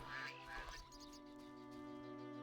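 Geese honk in a village setting in The Witcher video game, a few nasal calls heard over steady ambient game music.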